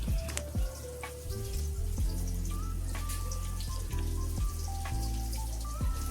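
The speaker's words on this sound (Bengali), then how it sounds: "এবার পেঁয়াজ কুচিটাকেও আমি একটু ভেজে নেব" Chopped onion fries in oil with a little salt for a pangas fish curry, giving a steady crackling sizzle layered over loud tonal background music and low rumble, with no one speaking.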